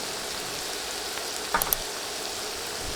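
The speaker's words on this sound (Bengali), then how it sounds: "বাটা মশলাগুলো জাস্ট বিশ সেকেন্ড ভেজে নিচ্ছি" Ground spice paste fries in a pan for a Bengali chickpea dal bhuna, giving a steady, even sizzle close up, with a couple of faint clinks from stirring near the middle.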